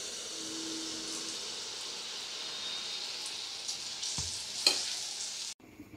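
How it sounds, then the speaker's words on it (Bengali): Malpua batter frying in hot oil makes a constant close-up hiss and sizzle, with a brief clatter near the end before the sound suddenly drops away. "এই একইভাবে সমস্ত মালপোয়াগুলো আমাদের ভেজে নিতে হবে।"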